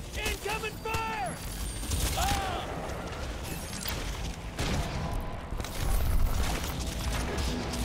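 Gunfire in the Crysis 2 shooter crackles in bursts of sharp shots and booms through a firefight, mixed with shouting voices and mechanical clatter.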